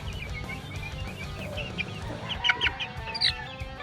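A chick's clucking and peeping sounds repeat in short bursts, getting louder toward the end, over a quiet background.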